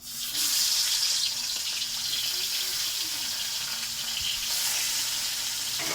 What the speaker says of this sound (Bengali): আমার তেলটা গরম হয়ে গেছে,